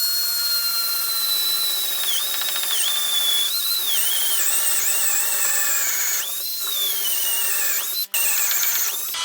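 A Fanttik NEX L1 Pro 3.6V cordless screwdriver drills a hole in wood, giving a steady, loud, continuous motor whine whose pitch wavers and dips as the bit bogs down under load, with a brief cut near the end.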